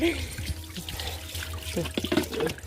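Fermented vegetable-scrap water poured onto plants in a rooftop garden, a close splashing and trickling stream with gurgles, while a voice murmurs faintly underneath.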